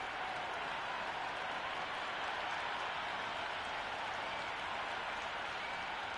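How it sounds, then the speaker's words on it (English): A packed crowd at Lord's cricket ground for an India Legends versus South Africa Legends match cheers and applauds in a steady, continuous roar of clapping and shouting, with no break for the whole stretch. "already the crowd making a hell of a racket"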